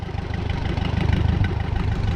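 A 1956 Case 411 tractor fitted with a loader idles steadily at close range, its low engine rumble continuous with no speech over it.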